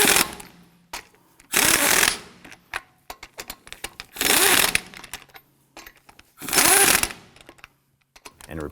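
Three short, loud bursts of a power tool snugging down lug nuts on a Ford F-150 wheel, each about a second long, with light clicks and handling noises in between.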